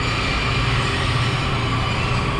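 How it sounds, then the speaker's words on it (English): A train pulls into a station with a loud, steady rumble of rolling wagons and wheels on the rails, close by and continuous with no talking. "When I get down to the train tracks and the train is just pulling in."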